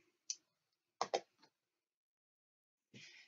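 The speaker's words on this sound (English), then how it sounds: "I'm going to snip the ends of my twine here." Scissors snipping twine ends during card making: a few crisp, close snips with short pauses between, in an otherwise quiet room.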